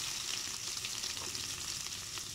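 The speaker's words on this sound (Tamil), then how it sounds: "இப்போ நம்ம வந்து வெங்காயத்தை போட்டுக்கலாம்" Sliced onion drops into hot oil with mustard seeds for a cabbage poriyal, producing a dense, even, close-up frying hiss that holds steady throughout.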